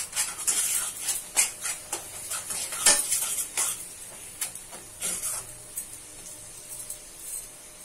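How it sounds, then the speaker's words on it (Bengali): A mixture being stirred in a pan with ghee until it dries, heard as close, repeated scraping and clinking of a spoon against the pan in an irregular rhythm. "এটা শুকনো হওয়া পর্যন্ত এটাকে নাড়িয়ে যেতে হবে"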